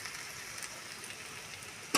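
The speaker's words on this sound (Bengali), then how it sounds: "আমার ভাজাটা হয়ে এসছে, আর 2-3 মিনিট পরে আমি বন্ধ করে দেবো।" Kudri aloo potato slices frying in a pan, a steady soft sizzle running the whole time with a brief louder clatter at the very end, no talking.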